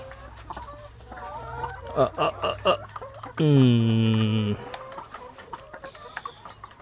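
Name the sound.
Deca Brown Cross Rhode Island chickens clucking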